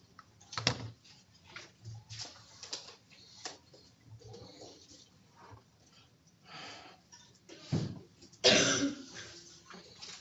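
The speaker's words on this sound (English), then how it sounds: "No coughing in class." Students cough and clear their throats in a classroom, several scattered, close coughs breaking a quiet room, with one harsher, louder cough near the end.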